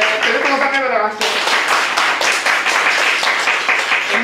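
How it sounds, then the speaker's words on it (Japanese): An audience breaks into applause right after a short spoken voice, the steady crowd clapping filling the rest of the moment with dense, even hand claps. "テレコのさんの方は拍手"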